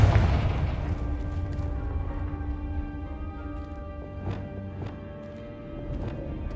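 A Confringo fire spell bursts in Hogwarts Legacy, a heavy low boom opening loud and close, then rumbling and fading under a steady game music bed with a few sharp later hits.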